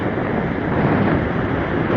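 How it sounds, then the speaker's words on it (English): Steady, loud wind roaring across the microphone at the beach, a constant broadband rush with faint surf underneath and no voices. "it's kind of windy, it's a bit nippy"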